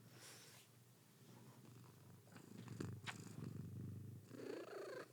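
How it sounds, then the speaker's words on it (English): A pet cat purrs loudly and steadily, close up, its rumbling purr continuous throughout with a brief snort-like breath near the end. "You're purring so loud."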